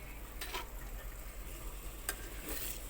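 Masala paste for amti sautéing in oil in a pan, a steady low sizzle with soft scraping stirs now and then, close and fairly quiet with no voices.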